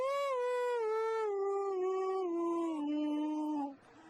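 A small dog named Saucisse howls in one long, sustained, wavering tone that slides slowly downward like a sung note. The howl is close and clear, then breaks off into quiet.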